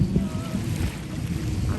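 Steady wind buffets an open seaside microphone at Klebang beach in Melaka, a continuous low roar with waves faint beneath and no talking.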